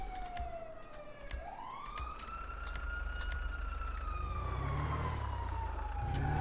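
Police sirens wailing in the distance, the pitch sweeping down then rising and holding in long undulating cycles, with a deeper vehicle rumble growing louder toward the end and no talk.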